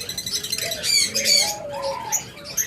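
A pair of opaline budgerigars kept in a box calls up close, with a few short warbling chirps and squawky notes in quick bursts over a quiet background and no voices.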